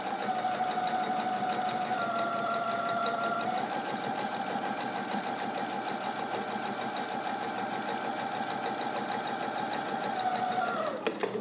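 A sewing machine runs steadily for several seconds stitching fabric for an Aloha Hawaiian shirt, its motor whirring at an even speed with a brief change in pitch partway through and a quick stop at the end.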